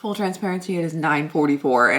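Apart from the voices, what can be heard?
No everyday noise stands out behind the speech.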